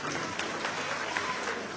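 An audience at a village Home Minister comedy show claps together in a steady, moderately loud patter, with voices talking underneath the clapping.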